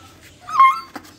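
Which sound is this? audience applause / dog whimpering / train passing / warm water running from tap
dog whimpering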